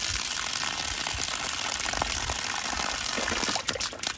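Water gushes steadily from a newly installed outdoor spigot on a PEX water line with air in it, a broad hissing splash, close and loud, with a few spurts near the end.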